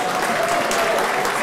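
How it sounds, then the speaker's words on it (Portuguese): An audience at a special council session honouring a park's anniversary applauds councillor Josi Guimarães, a dense, steady burst of clapping from a room-sized crowd lasting the whole moment. "Gente, vamos dar uma salva de palmas ao Josi Guimarães."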